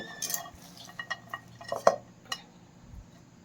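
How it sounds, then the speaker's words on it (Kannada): Chopped onion being stirred into a tamarind leaf chutney, with a spoon scraping and clinking softly against a bowl in a few irregular taps, one sharper clink in the middle, close and fairly quiet. "ಈಗ ನಾನು ಆ ಚಟ್ನಿ ಜೊತೆಗೆ ಇದನ್ನು ಹಾಕಿ ಮಿಕ್ಸ್ ಮಾಡ್ಕೊತೀನಿ"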